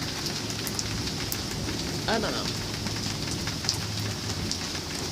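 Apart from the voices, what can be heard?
heavy rain dripping through a leaking roof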